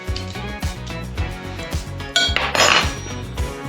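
A metal spoon scraping the seeds out of a fresh jalapeno, heard as a rapid series of close, rhythmic scrapes and clinks against the pepper and a bowl, ending in a louder, brighter scrape.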